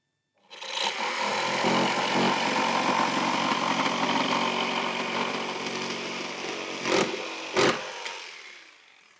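A Makita jigsaw cuts at maximum speed, a loud close buzzing whir starting abruptly and holding steady for several seconds, with a couple of sharp knocks near the end and no talk.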